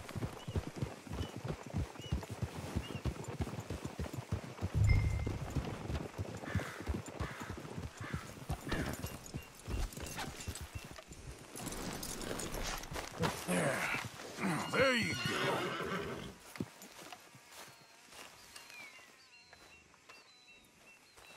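Horses in the video game Red Dead Redemption 2 clip-clop steadily at a trot, with a whinny rising near the middle and the hoofbeats fading toward the end, heard alone without talk.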